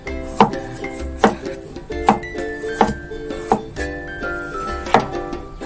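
A knife chops winter melon on a cutting board in a home kitchen, six sharp evenly spaced knocks about every second, close and clear with faint ringing between strikes.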